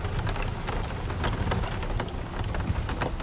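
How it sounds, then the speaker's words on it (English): Rain falls steadily at a big cat rescue sanctuary on a morning drive, a dense close patter of drops striking surfaces, continuous and fairly loud with no voices. "we needed this rain bad"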